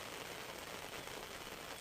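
Steady heavy rain falls at night during outdoor line fishing, a dense, even hiss with no breaks and no voices.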